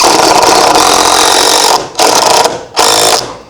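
A power drill drives screws into wooden boards for stairs up to a maple syrup head tank, with a loud whirring burst that stops twice briefly and resumes in short pulls.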